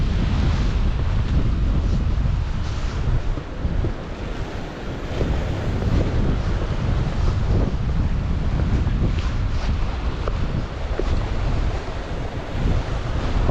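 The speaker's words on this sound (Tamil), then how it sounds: "கடல் அலை" Sea waves surge and crash on a shore near Kanniyakumari, a continuous loud roar of surf mixed with heavy wind buffeting the microphone.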